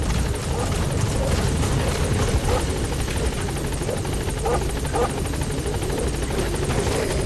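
Helicopter in Metal Gear Solid V, a loud, close, continuous rotor thrum with a fast chopping beat and engine whine holding steady throughout.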